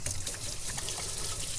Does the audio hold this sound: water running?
yes